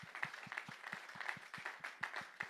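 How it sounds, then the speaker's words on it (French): An audience cheering a performance in a French-speaking gathering, heard as rhythmic, evenly spaced claps at a moderate, steady pace with lighter clapping mixed in and no voices over it. "on va les encourager par les acclamations."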